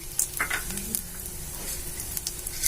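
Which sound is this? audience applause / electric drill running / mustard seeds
mustard seeds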